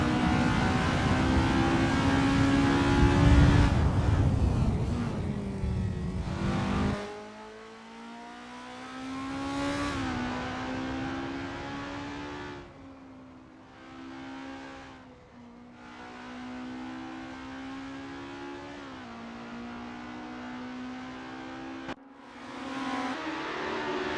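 Race car engines in a racing game rev and rise in pitch at Hungaroring in 1988 during warm-up, a loud buzzing roar that climbs, drops away and surges again with no talking.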